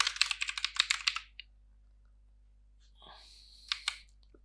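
Rapid clattering keystrokes on a computer keyboard as a name is typed, a quick burst of about a dozen close clicks, then silence and a few more scattered taps near the end.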